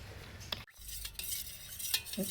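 Tender coconut sarbath being stirred in a glass or bowl, giving soft swishing strokes with a few light clinks of a spoon against the container, fairly quiet and close, with no talking.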